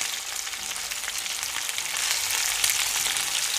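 Chicken pieces fry in a few spoonfuls of oil in a pan, giving a dense, steady hissing sizzle that stays close and even throughout with no voices.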